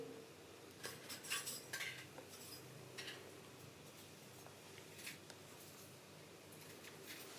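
A spoon stirs diced bell pepper into cooked mince in a metal pot, giving scattered scraping clinks and knocks in short irregular bursts over a quiet background.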